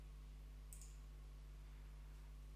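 A single short mouse click on an apply button, faint and quick, over a low steady electrical hum in an otherwise quiet room.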